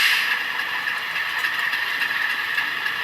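A Rapido RS 11 model train runs over track switches while merging onto the main line, producing a steady, close rail clatter with a constant hiss for the whole stretch, and nobody talks.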